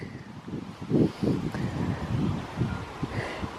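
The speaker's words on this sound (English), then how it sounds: "It's windy though, isn't it? Yeah, it's windy!" Gusts of wind buffet the microphone outdoors on an open Lake District hillside, a series of low rumbling bursts close up and uneven in rhythm.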